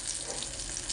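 Oil sardines frying in coconut oil in a pan give a continuous, close, bright crackling sizzle that holds steady without pause.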